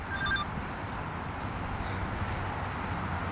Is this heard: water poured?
no